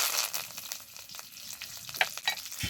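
Green chillies and curry leaves fry in hot oil with mustard seeds and dry red chillies for a dhokla tempering, giving a soft, steady sizzle with faint sputtering crackles and occasional spoon stirs.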